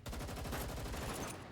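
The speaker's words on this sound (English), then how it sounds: "You hear the gunshots out there?" Rapid automatic gunfire in Girls' Frontline 2 rattles out in a fast, continuous burst of closely spaced shots, loud and dense for its brief length with no voices.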